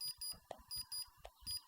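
Little repeated electronic beeps from a PS1 driving controller accessory, short bleeps in an uneven rhythm, faint and close.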